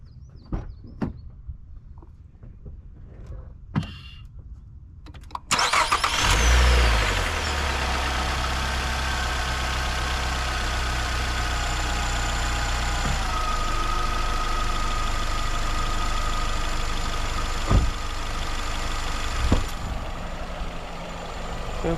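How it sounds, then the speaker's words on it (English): Quiet clicks and rattles, then a car engine filled with Valvoline Restore and Protect oil cranks and catches with a loud rise, settling into a steady, rumbling idle that continues throughout. "And then we'll go ahead and fire up the engine, see how it sounds."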